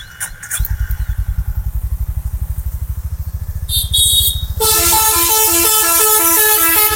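A 2024 Honda CB 350 motorcycle idles with a steady, rapid single-cylinder thump from its exhaust, close and loud, before a loud, sustained horn-like tone cuts in over it for the last few seconds.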